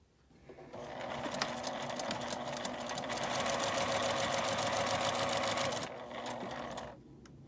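Sewing machine stitching a lined zipper pouch, starting up and running in a fast steady mechanical whir for several seconds before slowing and stopping, close and loud.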